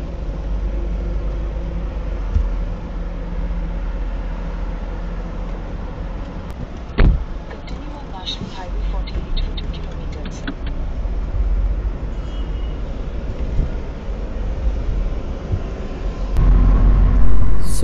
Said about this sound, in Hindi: सौ के ऊपर गाड़ी चल रही है